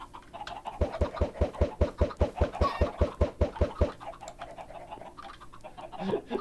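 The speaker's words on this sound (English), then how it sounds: "now I need to go down here and spawn more chickens" Chickens in the Minecraft video game cluck in a quick, regular run of about a dozen clipped calls, clear and close, then break off into a few scattered softer sounds.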